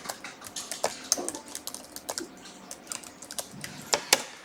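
Typing on a computer keyboard during accounting data entry, a close, irregular run of sharp key clicks with small bursts and pauses, and several louder strokes near the end. No one speaks.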